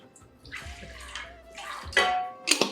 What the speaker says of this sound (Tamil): அடுப்பு ஆன் பண்ணிவிட்டு கொஞ்சம் தண்ணி ஊற்றிக்கோங்க அடியில்.